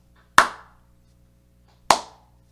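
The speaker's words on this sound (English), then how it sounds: "This is a slow clap." Two sharp, isolated hand claps spaced about a second and a half apart, close and crisp with quick decay, in a deliberate slow rhythm against near silence.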